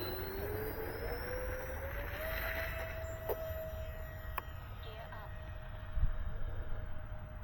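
A radio-controlled A-10 model jet takes off after repairs from a crash, its engine holding a steady, rising whine over continuous rushing noise, with a few sharp ticks along the way.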